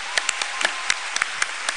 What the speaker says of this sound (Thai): ขอเสียงปรบมือดังๆให้กับพุ่มพวงดวงจันทร์หน่อยได้ไหมครับ